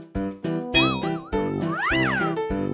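A kitten gives a rapid run of loud, close meows, some short and some long with rising and falling pitch, heard alone without talk.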